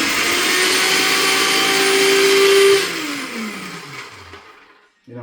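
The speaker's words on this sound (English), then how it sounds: "We put that through the food processor and we're going to dump that right in." A food processor whirs loudly while blending Chinese chili for a homemade taco sauce, a steady motor drone that holds, then winds down in pitch and fades to near silence.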